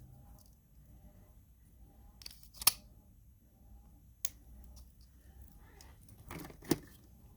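Necklace stringing material is snipped with scissors, giving two or three short sharp cuts spaced a few seconds apart over faint background rustle, close and fairly quiet.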